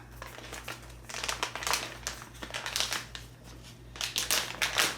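A resealable zipper bag of whole bean coffee crinkles in bursts as it is opened and handled up close, crisp plastic rustles coming and going with no talk.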